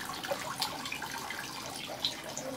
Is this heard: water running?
yes